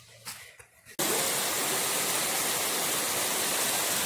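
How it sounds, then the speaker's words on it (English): A waterfall on a North Carolina trail cuts in abruptly after a second of quiet outdoor sound, then roars as steady, loud, broadband rushing water that stays unchanged to the end. "Here's the waterfall."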